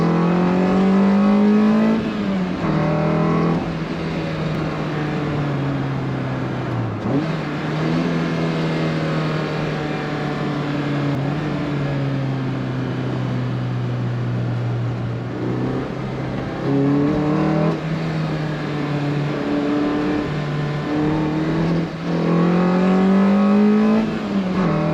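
Lotus Elise sports car fitted with a Prodimex shifter upgrade, heard from inside while driving: a loud, continuous engine drone that rises and falls in pitch as it accelerates and shifts gears, with no speech over it.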